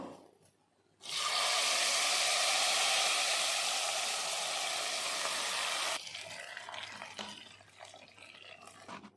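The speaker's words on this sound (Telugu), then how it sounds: "ఇప్పుడైతే ఈ పోపుని పప్పులో వేసుకుందాము" Hot tempering is poured into cooked field bean lentil dal, giving a sudden loud hiss that holds steady for several seconds, then drops to a softer bubbling crackle.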